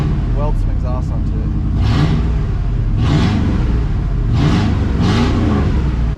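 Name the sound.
Chevrolet Silverado truck engine running without a muffler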